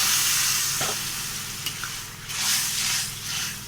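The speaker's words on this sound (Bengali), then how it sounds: "সামান্য জল ঢেলে দিলাম।" A little water is poured onto spices and potato being fried in a pan for a pangas fish curry, bursting into a loud hiss that fades and swells in short waves, close up, with no talk.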